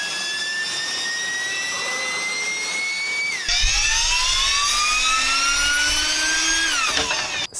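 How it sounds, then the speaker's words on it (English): Electric ducted fans of the kind used in RC planes, resembling mini jet turbines, scream loudly and continuously, their high whine rising and falling in pitch as they spool up and down. "we're actually using electric ducted fans, which are used in RC planes, and basically they look like mini jet turbines"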